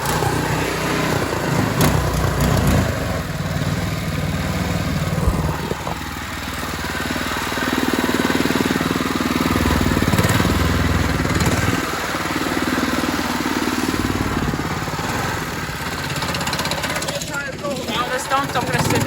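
A brand-new outboard motor runs on a mud skipper boat, a steady droning engine hum that rises and falls slightly as it revs, heard close with people talking over it throughout.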